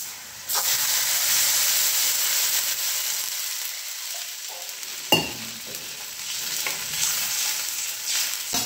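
Spice tempering for pithla sizzles loudly and steadily in a hot pan, a continuous frying hiss with one sharp clink partway through and no talking.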